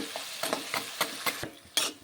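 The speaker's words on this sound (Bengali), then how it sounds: "দিয়ে একটু ভেজে নেব খুন্তি দিয়ে" Fried fish heads tossed in spiced cabbage in a pan, with a spatula scraping in about seven quick, evenly spaced strokes over a soft sizzle, close and fairly quiet.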